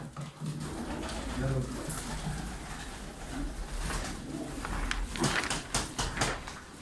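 Pigeons cooing in a loft room full of birds, including crested white and Malatya pigeons, with repeated soft throaty coos and some wing flutters, close and fairly loud under occasional background voices.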